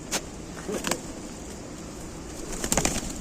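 Pigeons feeding outdoors with bursts of wing flapping, brief fluttering flurries near the start and again near the end over a steady background hum.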